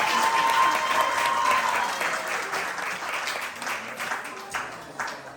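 Graduation ceremony audience clapping, a steady roar of many hands close by that gradually softens, with a few louder individual claps near the end and faint talk beneath.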